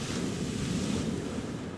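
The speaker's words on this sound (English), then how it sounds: "You put the camera on it, and then the waves just get really small." Ocean waves wash onto a beach in a steady, close roar of surf mixed with wind buffeting the microphone.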